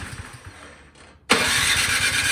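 A Craftsman snowblower engine is pulled to start: a brief crank and a pause, then the engine catches and runs loud and steady up close.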